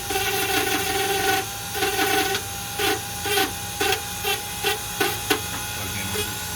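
A Dremel rotary tool polishes a steel field point arrow tip, a constant high whine broken by repeated short grinding pulses as the tip is pressed and lifted, close and moderately loud, with no talking.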